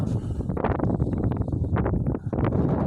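Strong, cold northerly winter wind buffets the microphone in loud, gusty rumbles and bursts, continuous with brief dips between gusts.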